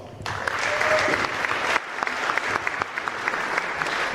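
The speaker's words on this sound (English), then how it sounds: "So give you guys all a big round of applause." An audience applauds after a check presentation at the Lake of the Ozarks Shootout 2023, a burst of steady clapping that swells, dips briefly, then continues dense and close, with faint voices mixed in.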